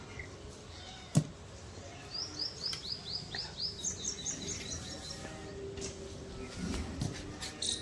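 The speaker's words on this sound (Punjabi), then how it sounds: "ਪੰਛੀ ਫਿਰਦੇ" Birds chirp in quick repeated bursts, fairly faint in an open outdoor setting, with a sharp knock early on and scattered background noises.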